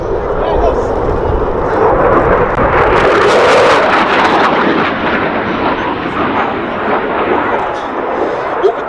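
A Eurofighter Typhoon FGR.4 jet roars loudly and continuously through a display pass at the Duxford Air Festival, its broad engine thunder swelling toward the middle, while a commentator talks over it.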